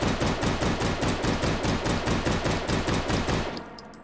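Beretta M93R fired with the stock attached in the H3VR video game, a loud rapid string of around twenty evenly spaced shots, close and alone, ending abruptly with a short fading tail.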